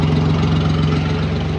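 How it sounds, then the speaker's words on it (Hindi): Modified Suzuki Bolan van engine idling steadily just after starting, a loud, even low throb with a regular pulsing rhythm throughout, close to the microphone. "ये देखें, स्टार्ट की है, आवाज़ भी सही है इंजन की।"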